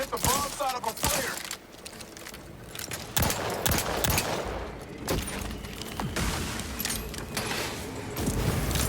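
Shotgun blasts in a first-person firefight in the video game The Outer Worlds 2, sharp booms scattered across a dense, busy mix of game effects and background noise.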